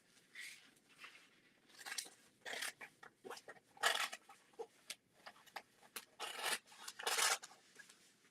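Thin, sharp scissors snip through fabric to cut out small floral shapes, giving quiet, close raspy crunches in irregular short bursts separated by brief pauses.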